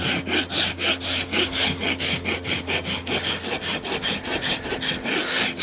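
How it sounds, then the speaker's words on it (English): A farrier's rasp works a big Percheron draft horse's hoof in steady, rhythmic strokes, a close, gritty scraping repeated about three times a second with no voices. "Check it for flat before we rasp on it."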